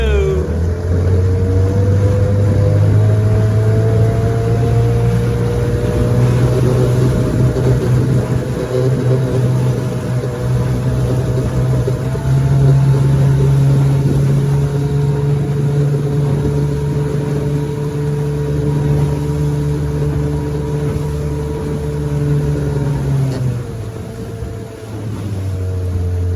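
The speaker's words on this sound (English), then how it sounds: "I'm going to take her for a spin now" A vintage 9.5 horsepower outboard motor drives a boat with a steady, loud droning hum that holds near-constant pitch, rises slightly midway, then eases off near the end.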